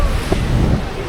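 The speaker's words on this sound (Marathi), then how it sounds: "इथं बसलो समोरून पण लाटा येतात. पूर्ण पाणी येईल अंगावर." Waves rolling in and washing over the rocky shore near a jetty, a steady, loud wash of surf mixed with wind buffeting the microphone, filling the whole moment without a pause.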